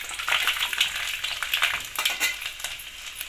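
Cumin seeds and garlic dropped into hot oil for a vegetable and pea pulao, a bright, close sizzle with rapid crackling bursts and uneven surges, steady throughout without speech.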